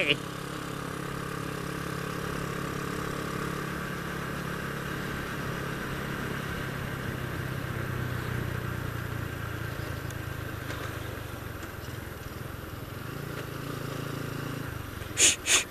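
A motorcycle fitted with an open air filter runs at a steady idle, a low, even engine drone that holds throughout, with a couple of brief knocks at the end.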